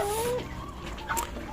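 Neighbours' chickens, free-roaming backyard fowl, cluck and call briefly nearby over a steady outdoor background noise.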